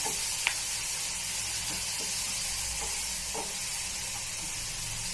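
Medium-sized tomato, made into paste, fries in hot oil with a steady, close sizzle, and a few soft scrapes of stirring break through now and then. Nobody speaks.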